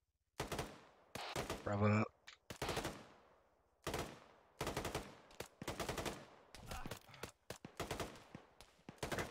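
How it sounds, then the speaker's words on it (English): Bursts of automatic gunfire during a PMC operation, coming in clustered volleys with short gaps between them, close and loud, with brief radio-style voice exchanges mixed in. "Can't see guys shooting us."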